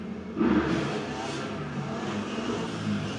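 A motorcycle roars past nearby, its engine swelling quickly and then holding a steady whirring drone.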